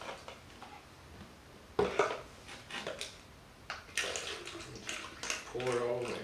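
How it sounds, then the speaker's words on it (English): Vinegar is poured into a water bottle during a balloon inflation experiment, making short splashy gurgles and bottle knocks amid soft talking. "I'll pour the vinegar"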